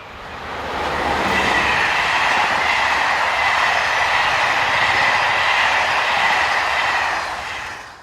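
French loco-hauled passenger train, number 7240, running north on the Mâcon–Chalon-sur-Saône main line from Lyon to Dijon, passing close by with a loud steady roar and rumble of wheels that swells in, holds for several seconds, then fades.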